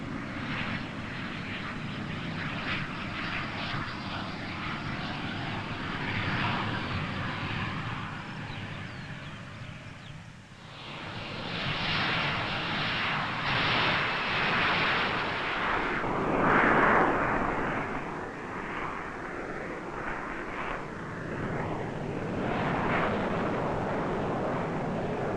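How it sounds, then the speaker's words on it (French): An Alpha Jet aircraft roars loudly and continuously on a very short takeoff from a highway in bad weather, its engine noise swelling as it accelerates and climbs away. "Ce décollage très court démontre, malgré le mauvais temps, les remarquables performances de l'avion."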